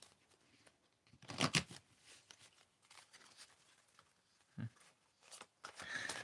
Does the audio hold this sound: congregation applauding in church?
no